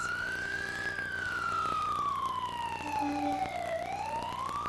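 A fire truck siren wails at the 1999 Lufkin Christmas Parade in Texas, a single steady rising and falling tone held throughout, loud and nearby over crowd noise.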